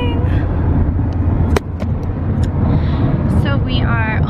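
A car's interior road rumble from a long family road trip by car, a steady loud low drone of engine and tires at highway speed, with voices talking over it.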